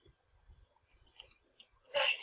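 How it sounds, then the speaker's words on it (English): Mouse clicks from left-clicking during Minecraft play sound as a quick, uneven run of small sharp taps at close range, quiet, followed by a brief louder burst. "I'm left clicking."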